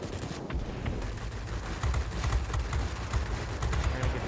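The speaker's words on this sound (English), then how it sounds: "Trying to get these cannons on target." Rapid aircraft cannon bursts from a Spitfire with a DB605 engine in the World of Warplanes video game, repeated sharp volleys over a constant loud engine drone with no voices.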